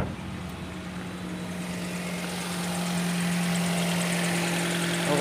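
A car engine idles with a misfire, a steady low hum with faint uneven knocking, fairly quiet and alone, rising slightly in level midway.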